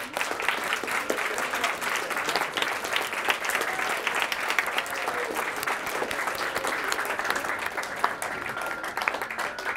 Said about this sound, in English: can you come forward so we can give you a round of applause,